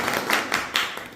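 Brief, scattered audience clapping at a company event, in honour of the CMD; a handful of separate claps and taps spread over a second or so, fairly close and not very loud.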